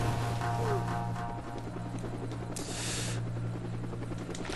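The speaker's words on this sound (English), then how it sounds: "looks like a helicopter's dropping them off on the roof already" A helicopter in the X-Men Destiny video game hovers nearby with a steady low rotor drone and mechanical whir, under faint game effects.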